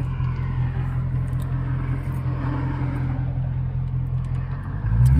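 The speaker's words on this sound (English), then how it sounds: "Y'all want to hear a little engine?" A 2021 Dodge Scat Pack idles with a deep, steady engine rumble close by, rising slightly louder at the end as it begins to rev.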